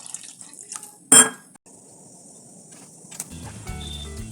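Water is poured into a pan of potato and spice curry, a brief clink followed by a soft, steady pour and sizzle, fairly close, with no talk.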